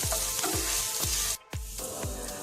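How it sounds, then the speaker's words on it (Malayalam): Onions and green chilies sauté in a hot pan with a steady close sizzle, punctuated by regular thuds of a spoon stirring and a brief lull partway through. "ഇനി നല്ലോണം ഒന്ന് വഴറ്റിയെടുക്കാം"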